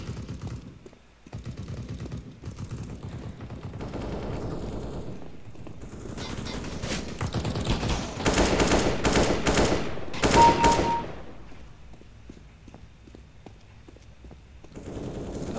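Rapid automatic gunfire in a first-person shooter video game, sustained rattling bursts that swell loud in the middle and fade toward the end, close and continuous.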